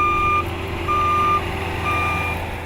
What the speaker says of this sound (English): judging by the sight of trucks paving roads throughout the new neighborhood